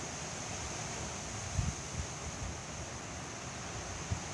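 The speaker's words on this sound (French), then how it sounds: "je suis dehors et puis en fait il y a du vent quoi." Gusty wind buffets the microphone outdoors, a steady broad rush with occasional low thumps and no voices.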